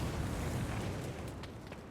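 Macro cannons firing in the Rogue Trader video game, a deep, rumbling barrage that swells and then slowly fades, heavy low-end booms rolling into one another with no voices.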